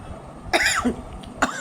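Two dry coughs from a woman with a cold brought on by the weather, close and fairly loud, separated by a short quiet gap indoors.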